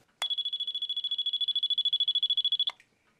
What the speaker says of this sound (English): there's a known good one, and it beeps with power